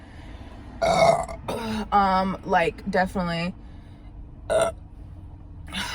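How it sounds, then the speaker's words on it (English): Loud, drawn-out burps follow a meal of an El Pollo Loco burrito, taco and sparkling water eaten in a car. Several throaty belches come in quick succession, a shorter one follows after a pause, and someone speaks briefly between them. "These burps are weird today."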